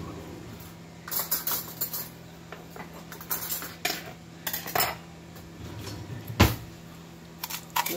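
A spoon clinks and scrapes in a dish while ground cinnamon and sugar are mixed, in irregular close metallic taps and strokes with quiet gaps, no talking.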